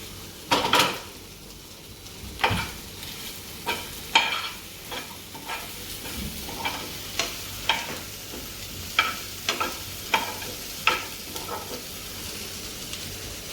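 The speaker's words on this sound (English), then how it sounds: "we will put it on high flame and then just toss it" Garlic mushrooms sizzle and fry in a pan over a high flame, with repeated clanks and scrapes of a utensil tossing them, about a dozen sharp knocks spaced through a steady crackling hiss.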